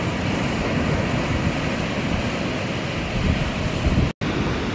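Ocean waves wash onto a beach in a constant, broad roar mixed with wind buffeting the microphone, with a brief dropout near the end.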